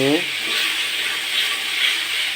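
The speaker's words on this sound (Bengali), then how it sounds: "আস্তে আস্তে টমেটোকে মশলা সহ ভেজে নেবেন" Tomato with spices frying in oil for a soybean curry, a steady close sizzle and hiss running throughout after a brief voice at the start.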